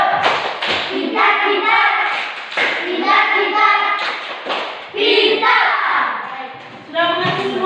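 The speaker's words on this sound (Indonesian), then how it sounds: "Semuanya tepuk pintar." A classroom group performs the 'tepuk pintar' clapping routine, rhythmic bursts of claps in patterned sequences mixed with children's chanting voices, fairly loud and continuous throughout.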